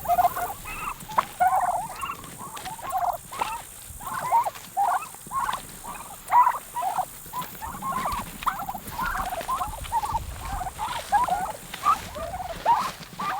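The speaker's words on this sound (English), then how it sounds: "Oh, hey, turkeys." Farm turkeys gobbling near a gate, a dense run of rapid, rattling gobbles repeating throughout, fairly close and loud with no talking.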